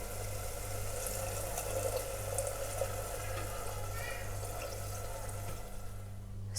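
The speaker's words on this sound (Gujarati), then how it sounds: "હવે 1 કપ જેટલું પાણી એડ કરીશું." Water poured from a cup into a pan of whole brinjal curry on the stove, a steady splashing pour with a low kitchen hum underneath, moderately close and continuous without talk.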